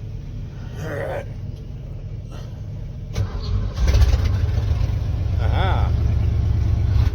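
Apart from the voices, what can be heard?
car engine starting and warming up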